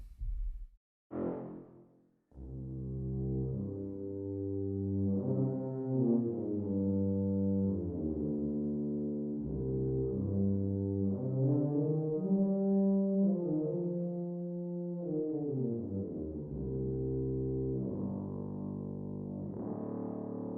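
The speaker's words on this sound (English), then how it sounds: "All right, and finally the tuba." Tuba from a brass sample library playing sustained low notes and phrases, deep and full with rich harmonics, after a couple of short opening hits; alone, no talking.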